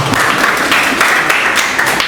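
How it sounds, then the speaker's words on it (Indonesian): Applause from a group of students at a class presentation on composition and framing: a steady, dense patter of clapping lasting about two seconds at even loudness. "Tepuk tangan dulu tahu yang naik tadi."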